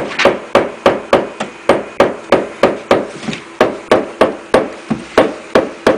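Steady hammer blows, about three per second, sharp and close, repeating evenly with no talk.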